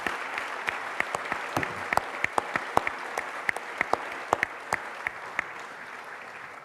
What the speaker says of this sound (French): on pourrait l'applaudir